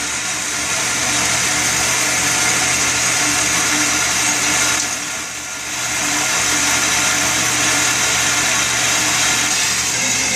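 Bandsaw trimming the side of a custom knife blank in a knifemaker's shop, a loud continuous whirring drone close by that dips briefly mid-cut before resuming, with no talk.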